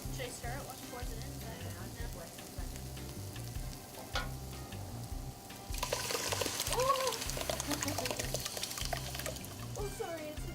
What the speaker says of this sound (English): somebody can pour the sauce in